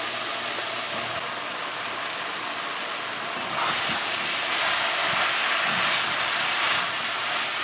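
Soya chunks drop into a hot curry pot and set off a loud, steady sizzling hiss that swells partway through and keeps bubbling on.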